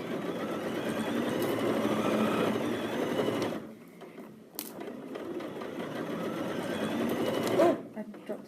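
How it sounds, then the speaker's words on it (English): A sewing machine stitches a seam on fabric for an invisible zip, a fast steady whirring chatter that pauses briefly midway and then resumes, close and clear. "So let's keep sewing."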